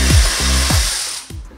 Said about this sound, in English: we're gonna take out the two bolts holding the caliper in. And we're using a size 14 millimeter.